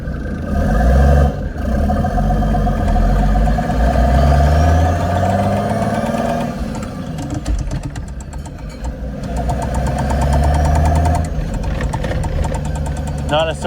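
A Mercedes 380SL roadster fitted with a swapped turbocharged OM603 diesel engine pulls away in first gear, a loud, rough diesel drone rising with throttle close by, while people talk over it.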